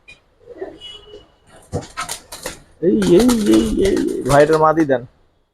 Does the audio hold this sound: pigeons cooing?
yes